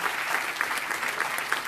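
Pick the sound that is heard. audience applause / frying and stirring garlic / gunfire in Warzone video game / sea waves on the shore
audience applause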